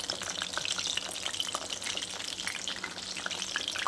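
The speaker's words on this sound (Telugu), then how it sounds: "డీప్ ఫ్రై అయితే బాగుంటుందని డీప్ ఫ్రై చేస్తున్నాను." Vanjaram fish pieces deep frying in a pan of hot oil, a steady dense crackle and sizzle throughout with small popping bursts, close and continuous, no talking.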